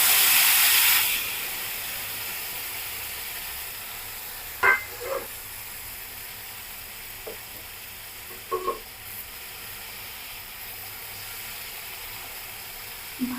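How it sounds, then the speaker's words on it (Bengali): Chopped vegetables for Chinese polao hit a little hot oil with a short, loud burst of sizzle. A low, faint hiss follows, with a few soft clicks of stirring. "আগে থেকে কেটে রাখা এই সবজিগুলো দিয়ে দিব।"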